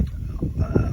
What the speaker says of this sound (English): It's extremely windy in Kansas and I'm recording this on an iPhone.